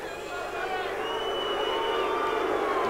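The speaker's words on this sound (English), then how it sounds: "The crowd at Tapia's hometown stadium here, very much behind their fighter." A hometown stadium crowd at a boxing match roars and cheers in a sustained, swelling wall of noise, with a commentator's voice riding over it.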